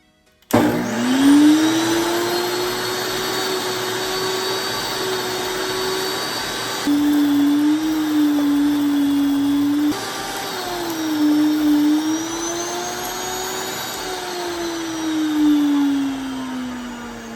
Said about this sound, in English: We'll add the grains first and then turn on the mill.